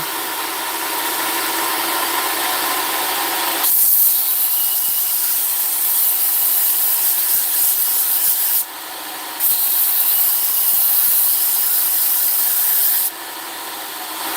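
A knife bevel is sanded and sharpened with a continuous loud abrasive hiss that runs unbroken, its pitch and level shifting abruptly a few times as the pressure or stroke changes; no voices.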